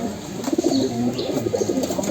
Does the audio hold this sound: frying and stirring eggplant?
no